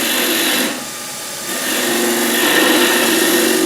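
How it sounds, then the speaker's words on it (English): Skew chisel used as a scraper against a spinning natural-edge wooden bowl on a lathe, giving a steady, close, broadband scraping hiss that dips briefly midway, then resumes, with no talk. "So I can take this off, skew chisel just as a scraper."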